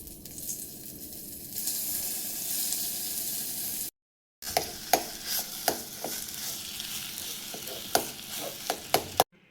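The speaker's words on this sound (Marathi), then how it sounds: "मी ही तुपात परतून घेईन" A mashed mixture sautéing in ghee gives off a steady sizzle that breaks off for a moment, then resumes with sharp scraping and stirring clicks from a spoon in the pan.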